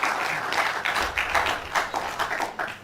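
Conference audience applauding a departing speaker, a steady wash of many hands clapping with rhythmic swells and dips, fairly loud and continuous throughout, without any voices over it.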